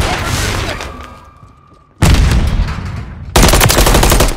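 Close gunfire from Call of Duty: Modern Warfare III, on the Favela map in a Domination match, comes in loud rapid bursts of automatic shots with a brief lull between them.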